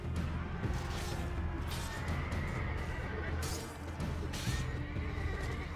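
Horses neighing in the medieval battle game Mount & Blade Warband, a couple of whinnies rising over a dense, noisy battle din with clashing and hoofbeats, fairly quiet overall.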